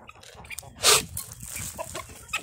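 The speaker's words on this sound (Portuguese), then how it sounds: "eu pego e coloco essas galinhas junto com o reprodutor gigante do Jesse." Hens cluck and murmur in a coop, with one loud squawk standing out early among quieter, irregular clucks close by and no talking.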